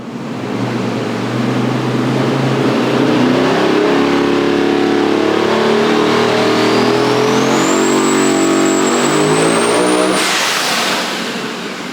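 Twin-turbo SML race engine screams through a full dyno pull, pitch climbing steadily to a sustained high wail with turbo whine rising above, loud and close throughout, then cutting off abruptly near the end.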